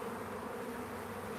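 Honeybees buzz inside an open hive during an inspection as young workers begin drawing wax, a steady, close, even hum with no break and no voices.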